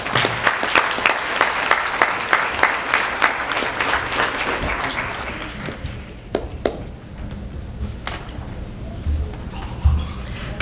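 Audience applause at a banquet, a steady wash of clapping for the first several seconds that fades out, leaving scattered taps, knocks and low room murmur.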